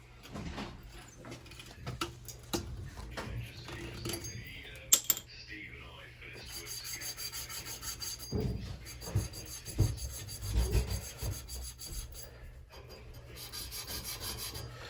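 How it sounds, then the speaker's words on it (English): A plumbing pipe is scrubbed clean before a ProPress cap is fitted, giving close, continuous rasping and rubbing strokes that rise and fall in intensity, with occasional sharper knocks. "we're cleaning the pipe to remove any impurities that are on there"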